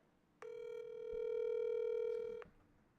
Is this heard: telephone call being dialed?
yes